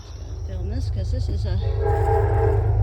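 A train passes near an Appalachian Trail campsite. Its rumble swells steadily louder with a sustained horn-like tone, while someone talks briefly over the start.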